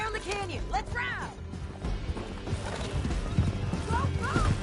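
Horses galloping in Red Dead Redemption 2, with steady clip-clopping hoofbeats and several whinnies, mixed with game sounds and voices.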